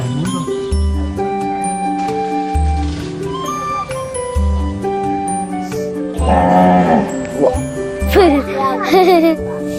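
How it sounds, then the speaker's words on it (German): A cow or ox at Gurukul Mayapur lowing in repeated deep, drawn-out moos close by, with people talking and children's voices around it and occasional jingling. "Echt eine schöne Kuh? Oder schöne Ochse?"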